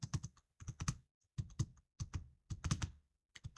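Fingers typing on a computer keyboard, close and crisp, with bursts of rapid key clicks separated by short pauses, a steady rhythm of clustered taps.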